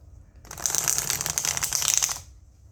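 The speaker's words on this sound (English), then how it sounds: "So let's do a little shuffle" A deck of Everybody's Tarot cards on thin, slippery cardstock riffle-shuffled close by, a brief fluttering burst of card flaps that ends with a short settle.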